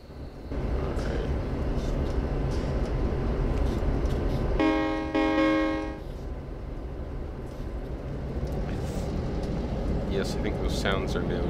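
A train in a train simulator video game runs with a steady low rumble throughout, and a loud horn blast sounds midway for about a second and a half, with a few faint clicks.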